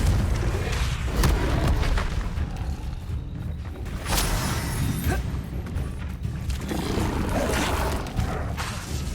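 Confringo fire spell blasts in Hogwarts Legacy combat, a dense battle din of booming thuds and crackling bursts, loud and continuous with several impacts amid roaring effects.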